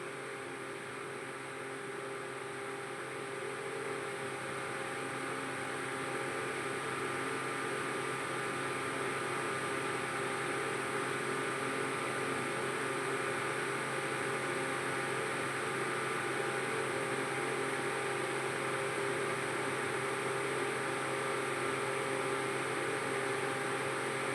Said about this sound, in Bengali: এবারে গরম তেলে ফুলিগুলো ছেড়ে দিচ্ছি